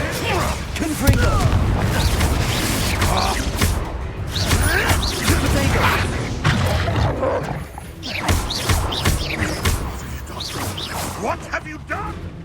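Spell explosions from the Confringo fire spell in the video game Hogwarts Legacy burst repeatedly amid dense combat noise, booming and crashing under steady talk throughout.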